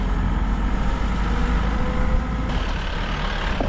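A safari jeep rumbles steadily along a rough track in Sri Lanka, its engine loud and close, with a brief clunk partway through and no talk.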